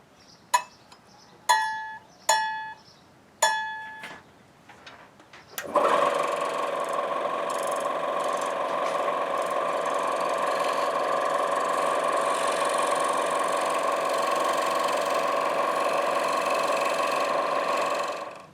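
A scroll saw cutting an olivewood Christmas ornament: a few sharp clicks come first, then the motor kicks in and runs with a steady, close buzzing chatter for over ten seconds.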